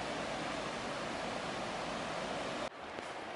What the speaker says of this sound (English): You can hear the sound of the stream.